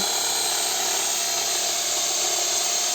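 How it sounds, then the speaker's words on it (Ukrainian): A sabre saw cutting a neighbour's plum tree in a garden, giving a steady, loud, high-pitched motor whine that runs without a break and carries no talk. "Так, а ми з чоловіком тут почали пиляти цю сусідську сливу."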